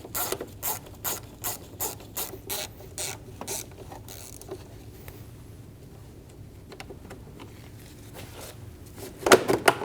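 Ratchet with a T15 bit clicks as screws come out of the intake boot on a 2012-2022 Volkswagen Passat, a run of rhythmic close ratcheting bursts, then a quieter stretch of faint clicks and a final rapid flurry.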